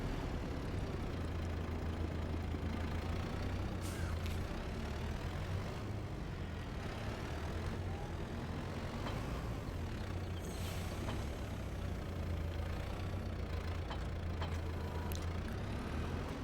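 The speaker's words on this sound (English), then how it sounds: "the Kubota is just so much smoother at this, like, precision movement because it has the CVT" Kubota tractor with a CVT transmission running in the Farming Simulator 22 video game, a steady low engine drone with occasional brief clicks and clanks over the top, continuous throughout.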